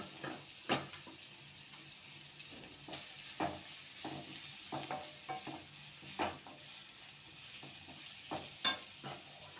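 Carrot, cabbage and bell pepper sautéing in a pan make a soft, continuous sizzle. Repeated scraping and clacking stir strokes come at an irregular pace, fairly close and moderately quiet.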